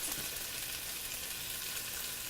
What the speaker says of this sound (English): You can hear them sizzle when they hit the hot oil.